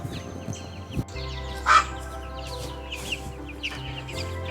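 A chicken clucking on a homestead in the Appalachian Mountains, several short clucks and a louder squawk scattered over a low background hum, close and clear without talk.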